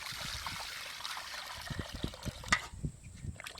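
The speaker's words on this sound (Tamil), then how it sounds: "இப்ப வந்து தண்ணி ஊத்தி கழுவிக்கலாம்." Water is poured over fish rubbed with turmeric and salt to wash them, a soft, faint trickle and splash with small irregular gurgles and one brief clink, close by and without talk.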